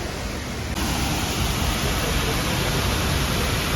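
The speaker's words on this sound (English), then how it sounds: "but this is the waterfall." A waterfall in a park near a cave entrance in Antalya, Turkey, pouring as a loud, continuous broadband roar heard close up with no break.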